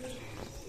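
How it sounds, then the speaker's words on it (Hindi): Pigeons coo softly from a loft where birds are being released to fly, a low murmuring burst that is steady and faint. "ये 7-8 कबूतर ओड़ गए हैं जी बच्चे"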